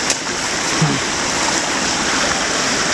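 Rushing creek water splashes and hisses continuously as a vehicle crosses it off-road, with a brief louder splash early on and a constant broadband wash throughout.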